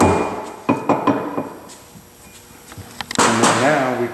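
Several sharp metallic hammer taps ring out as a rear end gear is worked into place, spaced irregularly in the first second and a half, with voices talking nearby afterward.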